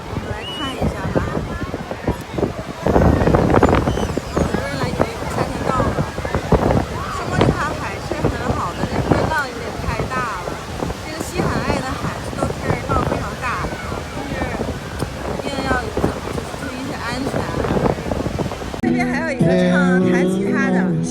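Strong wind buffets the microphone on the crowded Santa Monica beach, a constant roaring rush with surf in the background while people talk throughout, ending with a brief burst of music.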